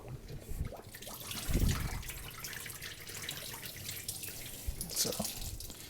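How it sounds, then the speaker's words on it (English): Flour wash water drains through a colander that catches bits of gluten while seitan is being made, giving faint trickling, dripping and splashing with a few louder pours. "we're dumping through the colander to save the bits of gluten"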